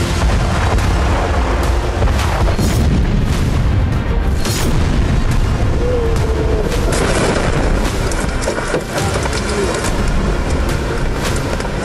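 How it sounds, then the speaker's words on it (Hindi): A massive blast destroying a large water plant in Zaporizhzhia, heard as loud, sustained booming and rumbling with repeated heavy thuds that fill the whole stretch without voices. "एक जबरदस्त ब्लास्ट जिसकी गूंज से कई किलोमीटर का इलाका थर्रा उठा।"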